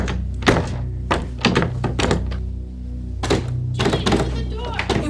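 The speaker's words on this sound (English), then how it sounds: "It won't open! Stop messing with me, Jillian, and just open it." A locked door thumps and rattles as someone tugs at it, several heavy knocks and jolts in uneven bursts close by, with someone shouting in between.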